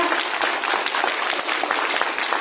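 Church congregation applauding in worship, a loud, dense and continuous wash of many hands clapping together without letup.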